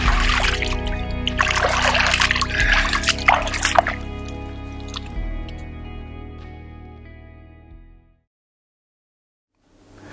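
Water drips and trickles steadily as a swimmer climbs out of a carp lake, with splashing early on, then the dripping fades into silence near the end.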